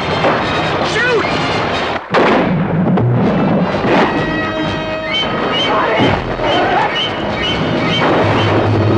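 Gunfire and blasts from the 1975 Jaws film trailer, loud repeated bangs and booming impacts mixed with dramatic music and voices throughout.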